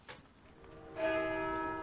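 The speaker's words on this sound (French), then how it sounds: "village d'origine de Benoît XVI, les cloches de l'église d'Altötting ont sonné à l'annonce de sa mort." Church bells ring at the church in Altötting, Bavaria, a sustained tolling tone with bright overtones that swells in about a second into the clip and hangs on, moderately distant, with no talking.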